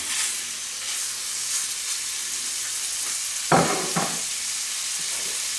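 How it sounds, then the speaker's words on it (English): A garlic burger patty sizzles in butter in a hot pan, a steady bright hiss throughout, broken by a couple of louder crackling bursts partway through. "And then we just take the burger and put it in."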